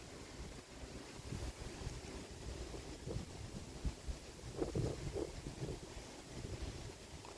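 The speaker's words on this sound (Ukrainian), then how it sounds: "Вітер такий сильний, що навіть комарі не кусають, тому що їх здуває." Strong, continuous wind buffeting the microphone with a heavy rumbling roar and gusts that swell and ease throughout.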